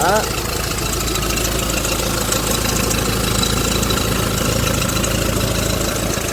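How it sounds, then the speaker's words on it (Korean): A 2001 Hyundai Porter Super long-bed truck engine idles steadily and loudly up close, with a raspy whining rattle from a worn fan belt running through it the whole time. "엔진에서 펜벨트 소리가 조금 심하게 나긴 하지만"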